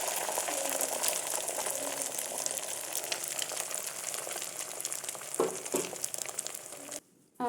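An egg omelette frying in mustard oil in a wok, a steady close sizzle and crackle with a few brief scrapes near the end before it cuts off abruptly.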